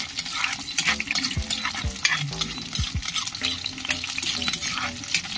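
Onion and garlic sauté in a hot pan with squid, a steady sizzle under repeated stirring and scraping of a utensil against the pan, close and fairly loud throughout.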